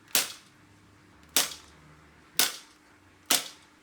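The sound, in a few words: toy flintlock blaster shooting half-length darts with surgical tubing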